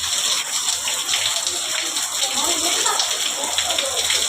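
Hail of small ice pellets pours down outdoors in a village during a summer storm, a dense, continuous patter and hiss that stays loud and steady throughout.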